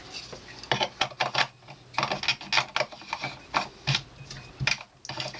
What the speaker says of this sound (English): And then your feet just screw back in.